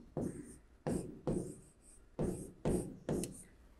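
Pen or pencil writing on paper in six quick, scratchy bursts, close and fairly faint, with short pauses between strokes.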